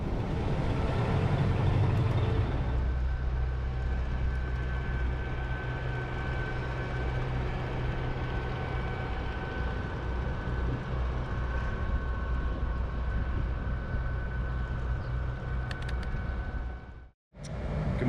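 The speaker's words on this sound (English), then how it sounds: "Those air conditioners are very loud." Loud air conditioners at a campground make a steady, broad mechanical hum and whoosh, constant and close, with no talk and a brief dropout near the end.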